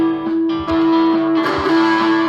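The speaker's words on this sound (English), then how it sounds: "Got a distortion switch on it" Yamaha ERG121C small practice amp with its distortion switch engaged, a loud, sustained overdriven electric guitar with a thick buzzy tone and a few picked notes over about two seconds, no talking.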